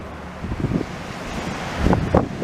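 Gusty wind buffeting a microphone outdoors on Boulevard de la Concorde in Laval, Quebec, as low rumbling surges that swell twice, louder near the end, with no talk.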